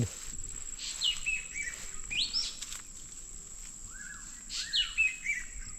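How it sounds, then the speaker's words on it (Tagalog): Birds call with quick, high chirps and short warbling phrases in scattered bursts, fairly faint against a steady outdoor hiss. "May ibon."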